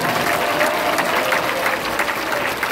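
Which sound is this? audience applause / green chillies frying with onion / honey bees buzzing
audience applause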